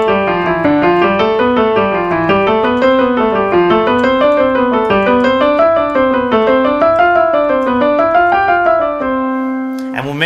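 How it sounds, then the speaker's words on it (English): Piano warm-up exercise played continuously, a steady stream of notes moving up and down in smooth rising and falling patterns, loud and close, ending on a held note with a brief noise at the very end. "Every time we sit at our piano, we want to make sure that we warm up properly."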